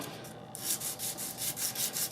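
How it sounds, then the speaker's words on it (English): Steady rhythmic rasping of coarse 60-grit sandpaper scrubbing back and forth on a metal channel, close and fairly loud, with no talking. "I'm sanding down the channel as well, and I went with 60 grit."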